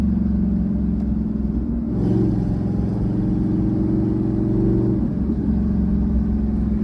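A Gen 2 Coyote V8 in a Mustang prepped for no-prep drag racing rumbles at low pitch, with a brief rise and fall in revs mid-clip as it downshifts, loud and close.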